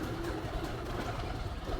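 Low, murmuring coos from pet pigeons kept on a rooftop garden with ducks and chickens sound briefly against a muffled, continuous background hum.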